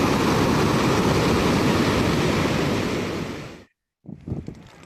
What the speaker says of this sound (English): Take a look at that wave.